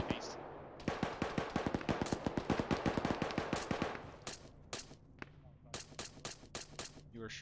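A machine gun firing tracers in Arma 3, cracking out a rapid sustained burst of close, loud shots, then breaking into shorter spaced bursts and single shots.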